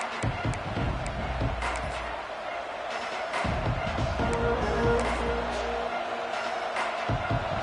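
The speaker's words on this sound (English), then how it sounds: "This crowd ready to make its presence known." A stadium crowd at a Texas A&M versus USC college football game roars as the drive opens, a loud continuous broad rumble of voices with bursts of noise and no clear speech.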